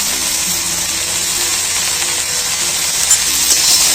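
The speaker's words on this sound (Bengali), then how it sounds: "আলু বেগুনটা একটু কষিয়ে নিতে হবে নুন হলুদ দিয়ে।" Potato and eggplant sauté in a pan with salt and turmeric, giving a steady, dense sizzling hiss with no voices.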